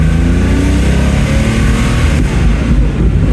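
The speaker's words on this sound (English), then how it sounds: "Listen to the engine. Here we go." Air-cooled flat-six engine of a Porsche 911 T revving, a loud, continuous, throaty drone with rising and falling revs heard up close, with no talking over it.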